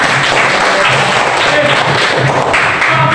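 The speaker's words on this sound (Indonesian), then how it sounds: "Tepuk tangan, kemudian." Classroom applause at an Indonesian Islamic school lesson, loud close dense clapping from students throughout, with a few dull thumps mixed in.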